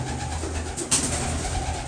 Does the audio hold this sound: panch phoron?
no